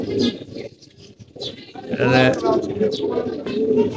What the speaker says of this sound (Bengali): আর আজকে বাতাস কম থাকার কারণে কবুতরগুলো ভালোভাবে উঠতেছে।